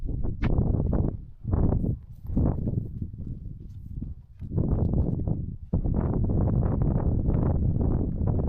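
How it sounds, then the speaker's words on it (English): Strong wind on a North Wales hillside buffets the microphone in loud, rumbling gusts, rising and falling irregularly, then roaring steadily near the end. "Well, it's pretty windy up here now"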